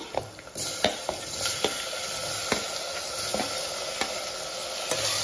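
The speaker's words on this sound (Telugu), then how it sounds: "అది ఆనియన్ వచ్చేసి ఇలా ఫ్రై అయిపోయిన తర్వాత ఇప్పుడు టమాటాస్ వేద్దాము." Tomatoes tossed into fried onions for stuffed brinjal curry, a continuous close sizzle with a faint hiss and spatula scrapes and taps at irregular intervals.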